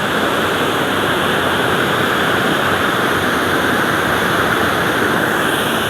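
Busay Falls waterfall pours down with a powerful, steady roar of rushing water, close by and unbroken throughout, with no voices.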